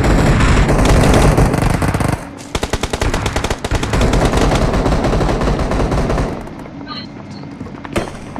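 Rapid automatic gunfire from a BGMI match: dense bursts of shots fill the first two seconds, then a steady rattle of individual rounds continues, fading toward the end with a few sharp late reports.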